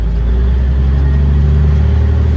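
A Peterbilt truck engine rumbles loud and close with a deep, steady drone, holding an even pitch without a clear rev change over the short span.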